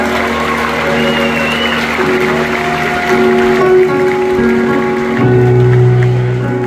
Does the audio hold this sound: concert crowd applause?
yes